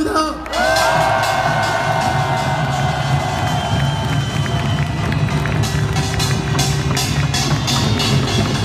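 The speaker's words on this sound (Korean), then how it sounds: "힘찬 박수로 맞으시기 바랍니다." A large crowd cheers and whoops at the 2017 Gwanghwamun candlelight protest in Seoul, a steady, loud roar of voices that continues without a break, with sustained musical tones ringing above it.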